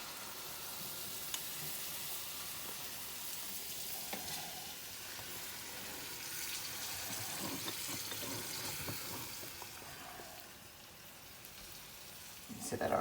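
Water poured into a hot cooking pan brings a steady sizzle and hiss with soft stirring scrapes, moderately quiet, rising briefly near the end.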